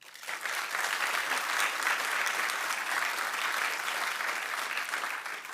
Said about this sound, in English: That deserves an applause.